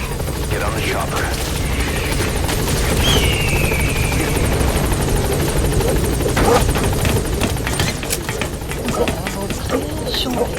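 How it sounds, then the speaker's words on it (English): Helicopter in the video game Metal Gear Solid V: The Phantom Pain, its rotor thrumming loud and steady throughout with a constant engine whine, game sound effects layered over it. "Get on the chopper."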